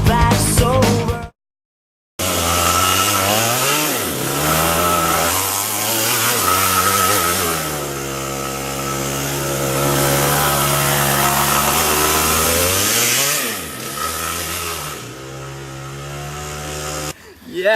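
A Yamaha KT100S kart engine runs loud and close, its pitch rising and falling as it revs up and down over and over, with a short silent break near the start.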